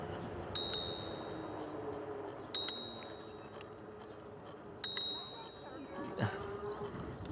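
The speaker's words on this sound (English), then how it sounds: "She's not realizing I've been hitting the bell." A bicycle bell rings out in three bright, quick double dings, spaced a couple of seconds apart, close and clear over a rider's steady road and wind noise on a KBO Ranger e-bike.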